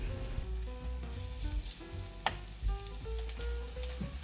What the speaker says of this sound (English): Let's cook some pajeon at a medium heat.